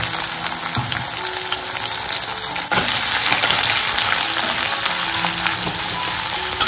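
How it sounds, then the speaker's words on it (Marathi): Onion, garlic and bay leaf frying in a pan for a chicken dish, a steady close sizzle throughout that grows slightly louder and busier partway through, with no talking. "तर इकडे ना आता कांदा लसूण मस्त फ्राय करून झालेले आहेत."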